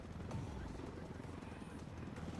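Helicopter in Ghost Recon Wildlands, a steady close rotor roar throughout with voices talking over it.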